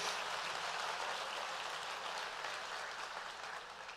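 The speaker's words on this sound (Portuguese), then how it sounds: "Vamos dar uma salva de palmas ao nosso Senhor, uma salva de palmas ao nosso Deus." Steady, dense applause from a large church congregation, sustained and even throughout with no voices standing out.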